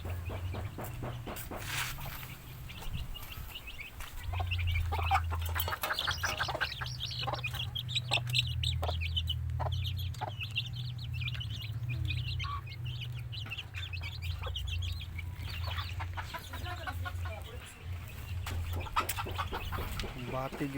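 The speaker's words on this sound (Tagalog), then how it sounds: "Pero na ay mga manok na may pakaon." Chickens clucking while being fed, repeated close clucks and short calls over a low steady hum, with people talking nearby.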